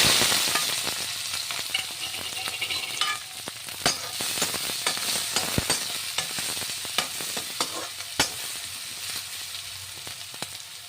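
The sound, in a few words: onions and green chillies frying in a pan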